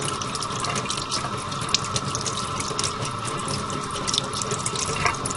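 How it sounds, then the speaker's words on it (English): Kitchen tap running steadily while tomato seeds are washed under the stream, a close, even rush of water with faint splashes and no speech. "I'll turn the water on and let it kind of just gradually trickle through it"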